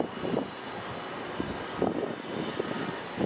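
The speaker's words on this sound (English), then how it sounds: "the Herb Kelleher is supposed to take off at 8:26 to Baltimore" Southwest aircraft Herb Kelleher taking off at Dallas Love Field, a steady broad jet engine roar at a moderate distance, with faint intermittent thumps and rustles nearby.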